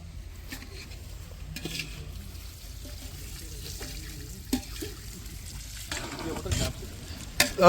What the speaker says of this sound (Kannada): ಇವಾಗ ಅದು ಫ್ರೈ ಆಗ್ತಾ ಇದೆ